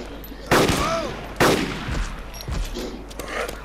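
Gunshots ring out in the DayZ video game: two sharp, loud reports about a second apart, each with a lingering echo, followed by fainter distant shots and background game ambience.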